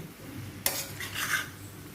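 Raw banana vegetable is stir-fried with freshly grated coconut in a pan, with a spoon giving one sharp scrape followed by soft stirring and a faint sizzle, quiet and close.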